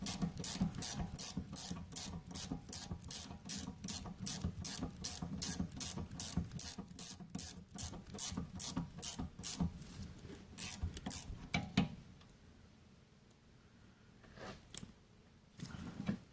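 A wrench turned by hand loosens the rear brake bolts on a 2009 Mazda 6, giving a long run of rapid, evenly spaced ratcheting clicks up close that fade into quieter scraping near the end.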